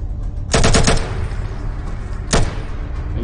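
Gunfire in the video game ATOM: a rapid burst of several automatic shots, then a second shorter burst about two seconds later, loud and close over a low background hum.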